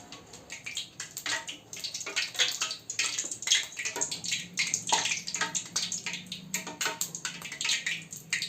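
Nimki dough frying in hot refined oil that caught a little water, a dense crackling sputter with rapid irregular pops and hissing bursts, close and continuous.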